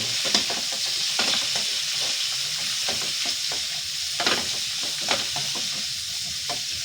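Vegetables for pansit canton sauté in a hot pan with a loud, continuous sizzle, cut by repeated scraping and clacking strokes of a spatula as they are tossed.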